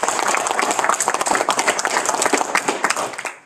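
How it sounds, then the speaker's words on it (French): People at a public council meeting applaud, a room of hands clapping with audible individual claps, moderately loud and tapering off toward the end. "On pourrait aussi en profiter pour lui servir une bonne main d'applaudissements et le féliciter."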